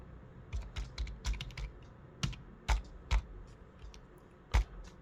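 Rapid clattering keystrokes on a computer keyboard as numbers are entered into a C program, irregular bursts of clicks with a few louder taps, close and alone without talk.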